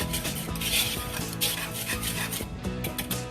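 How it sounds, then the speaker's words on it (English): Dry cupcake ingredients being whisked together in a bowl, with a steady run of fast scraping and light clinking of metal against the bowl, close and continuous. "We're going to whisk this together and then set it aside."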